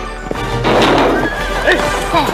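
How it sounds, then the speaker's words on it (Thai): A newly acquired horse neighs loudly in a long, wavering whinny, with hoof clip-clops and someone speaking nearby, in a Thai drama scene. "ม้าตัวนี้ได้มาใหม่ด้วยครับจะมาแทนตัวที่ตายไปครับ"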